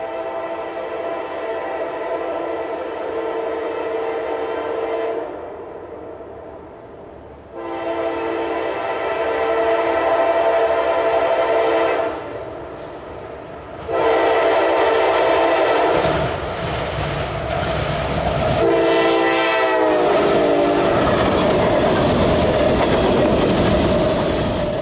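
An empty grain freight train passes on a Tennessee railroad, loud and close, its horn sounding in long blasts with gaps, then rolling wagon noise and clickety-clack as the cars go by.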